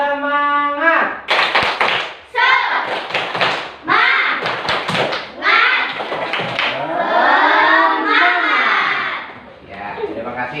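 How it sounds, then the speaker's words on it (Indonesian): Schoolchildren in an Indonesian classroom perform the tepuk semangat, a rhythmic clapping chant, with bursts of patterned claps alternating with loud chanted voices, close and lively. "Sebelumnya kita tepuk semangat dulu ya. Tepuk semangat."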